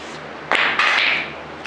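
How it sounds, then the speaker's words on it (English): Blacksmith's hammer striking hot metal during forging of a hole punch tool, two sharp ringing metallic impacts in quick succession, the second trailing into a sustained bright ring, close and loud. "broke my freaking hammer again"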